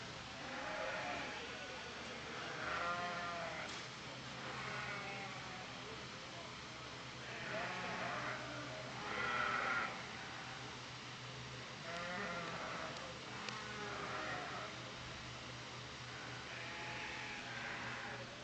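Dorper sheep bleat in a few bursts at a Texas Hill Country livestock show, mixed into a steady hum of crowd noise and an announcer talking throughout.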